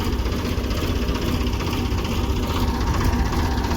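A tractor engine runs steadily in a field during rotavator work, a continuous mid-to-low idling drone with a slight knocking throb, close and even throughout with no talk.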